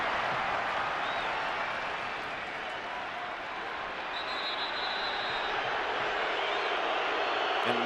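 Dense, roaring stadium crowd noise at a football match between the United States and Mexico, a steady loud wash of many voices and whistles that swells slightly toward the end.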